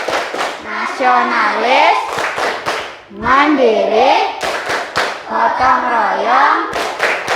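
A classroom of Indonesian schoolchildren claps out the rhythmic PPK clap pattern while loudly chanting words in unison, sharp close hand claps punctuating the voices in repeating bursts.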